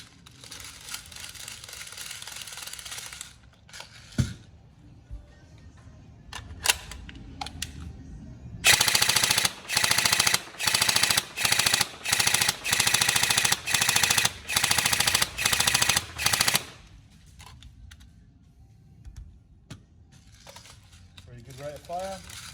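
Tokyo Marui M4A1 NGRS airsoft electric gun fires in a series of rapid, loud bursts with short gaps between them, preceded by mechanical handling clicks and followed by quieter background sounds.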